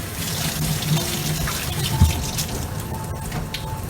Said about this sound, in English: I need to wet my hand.